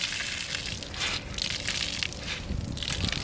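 A car wash mitt being rinsed and swished in a bucket of clean water, giving continuous close sloshing and splashing with gushing surges.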